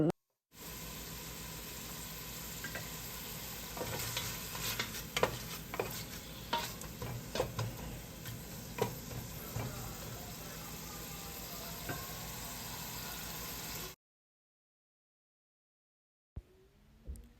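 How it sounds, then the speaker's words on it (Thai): Pork stir-frying with onion in a pan for fried macaroni, a loud, steady sizzle punctuated by repeated spatula scrapes and clacks, cutting off abruptly and followed by silence and a short burst of sizzling. "ผัดให้เนื้อสัตว์สุก"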